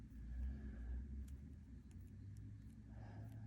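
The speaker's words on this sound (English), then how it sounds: "And traffic going by like crazy." Road traffic passes outdoors near a lake, with a low, steady rumble of cars and engines that swells slightly. It is faint and distant with no voices.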